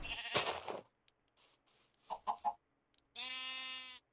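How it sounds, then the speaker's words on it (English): A Minecraft sheep gives one drawn-out, buzzing bleat near the end, after a few scattered clicks and short game noises, with no talking. "there's the sheep"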